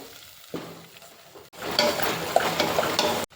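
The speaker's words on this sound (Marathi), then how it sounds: "आणि या मसाल्याला तेलात छान असा परतवून घ्यायचा." Masala spice paste fries and sizzles in hot oil in a pan while being stirred, starting as a soft hiss before a louder, dense crackling sizzle takes over with occasional scraping of the spoon, and no voice.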